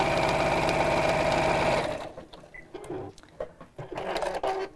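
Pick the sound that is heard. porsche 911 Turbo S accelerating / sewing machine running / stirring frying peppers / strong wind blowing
sewing machine running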